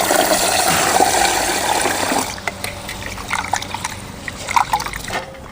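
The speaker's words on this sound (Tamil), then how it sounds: "நல்லா தண்ணி ஊற்றி சுத்தம் பண்ணி ஊற வச்சுக்கலாம்." Water is poured over cowpeas and the beans are swished and rinsed by hand, a steady gush of pouring followed by close, splashy sloshing and clicking of grains.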